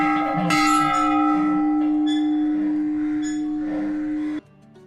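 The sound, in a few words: large temple bell ringing at Wagheshwar Temple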